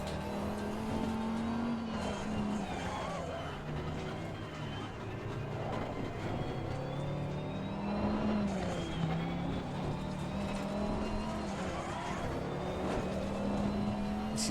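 Race car engine in Assetto Corsa Competizione droning steadily for a long stretch, rising and falling in pitch as it revs up and shifts, close and continuous.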